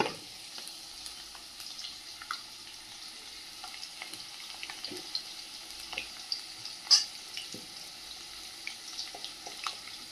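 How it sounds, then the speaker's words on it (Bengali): Potato pieces fry in oil with salt and turmeric, giving a soft, continuous sizzle with scattered scrapes and clinks from stirring, fairly quiet and free of speech. "আলুটা লবণ আর হলুদ দিয়ে ভেজে নেব।"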